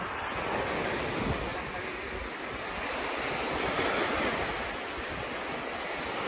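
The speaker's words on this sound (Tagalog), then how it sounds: "Malakas daw kasi ang alon." Strong sea waves on a beach, a broad continuous roar of surf mixed with wind buffeting the microphone, loud and unbroken, with no clear speech.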